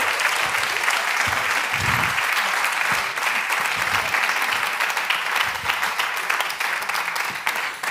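Studio audience at a Schlager TV show applauds steadily and loudly, a dense continuous wash of clapping that holds for the full stretch with no talk over it.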